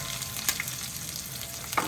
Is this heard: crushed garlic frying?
yes